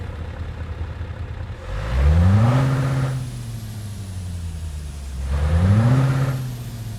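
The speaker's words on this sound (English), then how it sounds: "that wonderful sound is none other than the Scania V8 engine mod" Scania S730 truck with a modded V8 engine in Euro Truck Simulator 2, revving twice in a row, each a deep rising then falling engine surge over a steady idle rumble.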